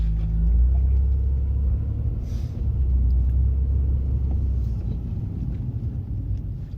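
A car with newly fitted brake pads rolls along a road at about 20 km/h, giving a steady low rumble of engine and tyre noise that stays fairly loud throughout with no voices.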